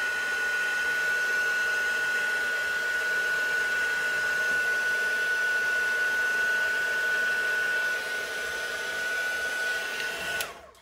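A hair dryer blows steadily up close, drying paint on a galvanized metal pumpkin plaque, with a loud, even hiss and a thin constant whine that dips briefly before the dryer cuts off near the end.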